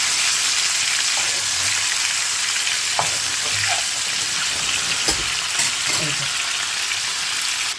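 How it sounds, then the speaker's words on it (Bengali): Sea bass frying in a pan for a fish curry gives a continuous, loud hissing sizzle, with occasional soft taps and clinks of a utensil. "এই যে মাছটা ফ্রাই করে নেব।"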